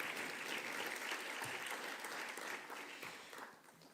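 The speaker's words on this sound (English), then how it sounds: "A round of applause." Audience applause at a conference talk on health systems and the environment, a dense steady clapping that fills the whole stretch and fades slightly toward the end.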